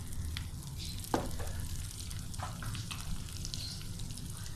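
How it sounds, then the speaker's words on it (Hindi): Ground lentils fry in ghee in a pan with a steady close sizzle and soft crackle, broken by a few light scraping clicks as they are stirred. "अब हम आलू और दाल को फ्राई कर लेंगे हल्का सा"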